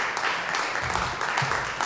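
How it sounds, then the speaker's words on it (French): An audience breaks into brief, dense applause, many hands clapping at once close by, with faint voices mixed in. "J'aimerais qu'on les applaudisse encore une fois."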